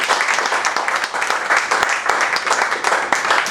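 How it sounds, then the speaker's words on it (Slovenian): An audience at a live trail and ultra running podcast event claps together, a lively, slightly uneven round of applause with sharp individual claps poking out near the listener. "Aplavz, prosim."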